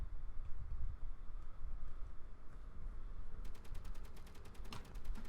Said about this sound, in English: It's shooting at you.